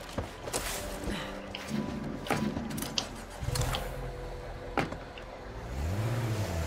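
A car in a zombie video game starts moving, with mechanical clunks, door and gear clicks over a low engine drone, and a rising whir near the end.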